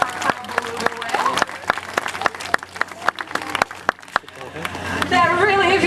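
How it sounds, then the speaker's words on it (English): An aquarium audience claps for beluga whales Kavna and Aurora at a show in Vancouver, sharp separate hand claps scattered across the clip, with voices and a rising crowd murmur near the end. "Let's give them a round of applause."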